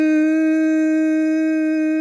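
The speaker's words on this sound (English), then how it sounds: "you're making like that buzzing sort of sound" A steady humming buzz from one person's closed-mouth exhale during bumblebee breathing, a continuous rich drone held evenly for about two seconds, loud and close, with no talk.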